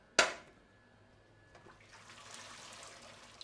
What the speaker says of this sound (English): Pour it all in there to strain it off.